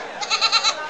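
Black Bengal goats at a busy goat market, a single close, loud bleat wavering in four quick pulses, with light background noise.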